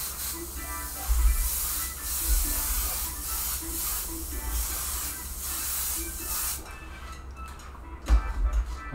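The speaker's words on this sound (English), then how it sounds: "I'm gonna have to turn up the ventilation in here." A ventilation fan runs in an airbrush shirt workshop, a steady broad hiss and whir with faint ticking and a few soft low thumps, continuous throughout and alone without talk.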